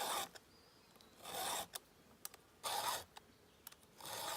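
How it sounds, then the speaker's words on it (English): Hand file sharpening the teeth of a chainsaw chain: short, close rasping strokes repeated at an uneven pace, with quiet pauses between them. "I mean, 5 minutes to sharpen your saw."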